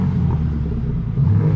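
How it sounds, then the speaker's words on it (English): A BMW G80 M3 engine revs at night, a loud, close, rumbling low roar that swells and holds steady, with a brief surge toward the end. "I'm gonna give it a rev."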